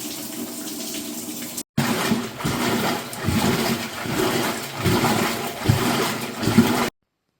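Roper washing machine filling with water, a steady close rush and splash of incoming water that cuts out briefly, resumes with fluctuating gurgles, then stops abruptly, with no talk.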